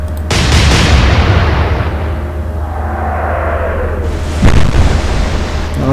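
Naval guns fire in the Atlantic Fleet war game, opening with a loud boom that swells into a heavy, continuous rumbling roar, followed by another sharp blast surge later.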